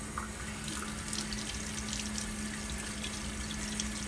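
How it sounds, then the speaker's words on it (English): Cold water runs steadily from a tap while a fire-damaged British teapot and its lid are rinsed, a continuous close splashing flow with a faint steady hum underneath and no voices. "just using the cold water."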